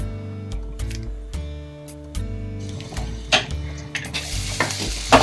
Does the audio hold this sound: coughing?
no